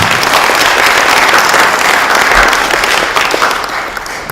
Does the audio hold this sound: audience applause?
yes